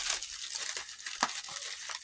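Faint crinkling and rustling of a plastic bag of items being torn and pulled open by hand, soft and close with scattered crackles and no voice.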